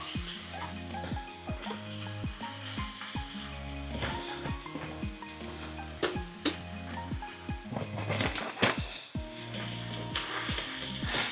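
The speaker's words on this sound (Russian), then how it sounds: "Как следует, это мы сейчас пережарим" Flour fries in a pan of pork belly sauce, sizzling steadily while a utensil stirs and scrapes in a regular, repeating rhythm; close, moderately loud, with no talk over it.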